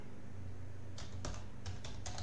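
Several crisp keystrokes on a computer keyboard in a quick uneven run over a steady low hum.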